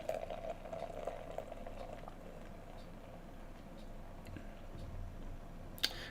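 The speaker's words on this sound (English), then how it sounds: "we'll get into the theatrics of a 5-minute pour" Dark stout beer poured slowly from a bottle into a snifter glass, a soft, steady bubbling fizz of liquid that stays faint and continuous, with a brief sharper clink near the end.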